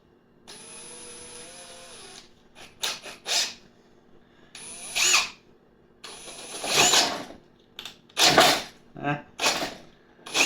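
Drill boring out a bolt hole in a Takahashi EM 200 bow riser, heard in bursts of whirring and grinding that start and stop several times, with handling clatter between runs and no talk.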